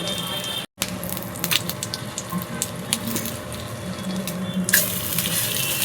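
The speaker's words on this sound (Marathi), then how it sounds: "साईडने आपण तेल घालूया त्यामुळे आपले कटलेट छानपैकी फ्राय होतील" Potato cutlets fry in a pan with oil added around the sides, producing a steady close sizzling hiss with a brief dropout near the start and a louder burst of spattering toward the end.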